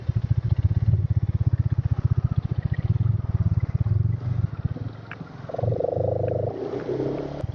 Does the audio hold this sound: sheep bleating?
no